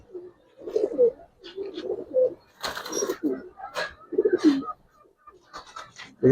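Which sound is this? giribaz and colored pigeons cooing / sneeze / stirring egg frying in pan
giribaz and colored pigeons cooing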